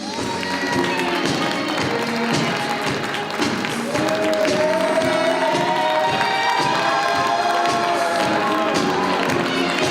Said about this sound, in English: Let's give a round of applause for Rolando Blackman.